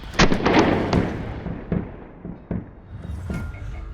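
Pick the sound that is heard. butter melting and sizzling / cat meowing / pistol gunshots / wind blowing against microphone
pistol gunshots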